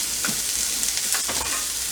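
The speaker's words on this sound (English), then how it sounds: "It's a bit of oil, a bit of garlic, sizzle, sizzle, sizzle." Broccoli and garlic sizzling in hot oil in a pan, a steady close crackle with a few sharper spits and stirring scrapes, no voices.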